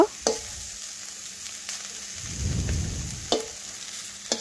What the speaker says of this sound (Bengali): এইভাবে উল্টে পাল্টে ভাজতে ভাজতে দেখুন ভাজা হয়ে গেছে।